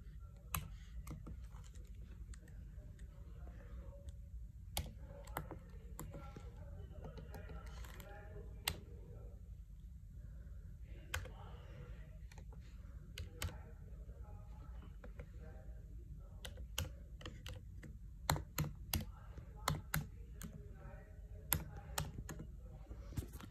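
Keys clacking on a Mac keyboard as an Apple ID is typed at a password reset screen, quick irregular bursts of taps over a quiet hum, with faint talk in the background.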